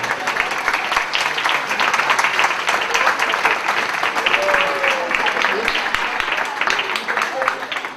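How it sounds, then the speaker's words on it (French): An audience at an aquatic show applauds synchronized swimmers, dense sustained clapping from a large crowd with scattered voices mixed in, loud and steady throughout. "je vous demande de les encourager et de les applaudir très très très très fort."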